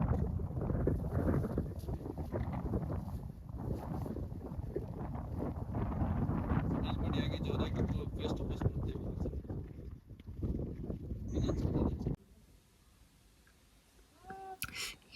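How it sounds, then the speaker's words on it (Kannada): Strong wind at Kalasa blasts across the microphone in loud, gusty roaring bursts with a whistling edge for about twelve seconds, then drops away abruptly to near quiet, with voices heard briefly. "ಸ್ವೀ ಸ್ವೀ ಸ್ವೀ ಅಂತ ಗಾಳಿ ಬರ್ತಾನೆ ಇದೆ"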